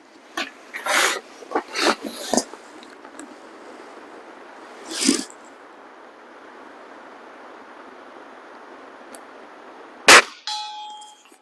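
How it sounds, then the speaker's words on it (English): A bell, likely hung at an airgun shooting range and struck by pellets, rings sharply near the start, again at about two and five seconds, with a final loud clang near the end and steady outdoor hiss throughout. "we're going to ring that bell a couple of times"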